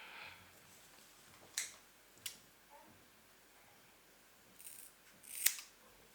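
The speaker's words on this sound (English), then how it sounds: "So cutting my hair right now is pretty easy." Scissors snip through hair a few times in a quiet room, faint, crisp clicks spaced irregularly with soft rustles between.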